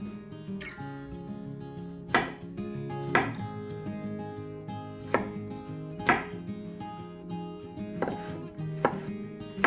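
Knife chopping garlic cloves on a board, a series of crisp, close chops coming at a steady pace of roughly one per second, with no talk.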